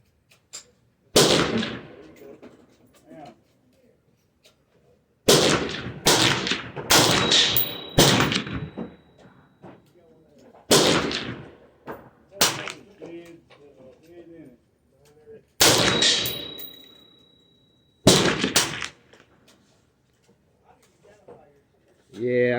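A chrome-lined machine gun fires M855 green-tip rounds at steel targets 200 yards away on a range. Sharp bursts of shots come in several separate strings with quiet gaps between them, loud and close, and some pings ring out from the steel.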